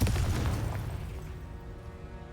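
A Confringo blasting spell explodes in a Harry Potter video game: one heavy, deep boom hits at once, then rolls out into a long rumbling decay that fades gradually, with nobody talking over it.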